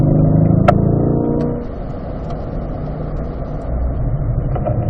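Car engine on a race track, heard from inside the car: a loud, steady engine drone that eases slightly, then swells again as the throttle opens.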